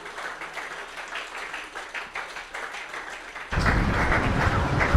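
An audience at a cricket awards ceremony for young under-15 players bursts into loud, dense applause that swells suddenly after a quieter patter of scattered clapping.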